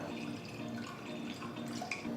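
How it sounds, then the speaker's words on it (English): Water pours into a pressure cooker with a faint, continuous trickle and light splashing, quiet and steady for a couple of seconds. "pour some water in a pressure cooker"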